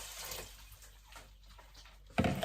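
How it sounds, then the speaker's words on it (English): Water poured into a pot of elderberries and other syrup ingredients, a faint trickling splash that swells into a louder, fuller pour near the end, close by with no talking. "Now to this I want 8 cups of water."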